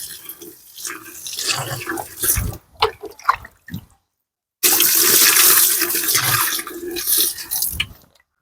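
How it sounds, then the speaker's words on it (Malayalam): Water is poured into a washing machine drum in uneven splashing bursts, then stops for a moment before a heavy, continuous gushing pour that tapers off near the end. "നമ്മൾ ഡയറക്റ്റിനകത്തേക്ക് കുറച്ച് വെള്ളം ഒഴിച്ച് ഈ അഴുക്കൊന്ന് കുതിർത്തെടുക്കുകയാണ്"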